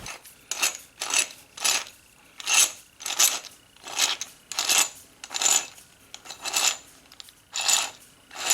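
Metal jaw supports sliding out of an Easy Wood Tools Easy Chuck as its wheel is rotated, producing a steady series of about fourteen bright, close metallic clicks and scrapes at an even rhythm, with no talk.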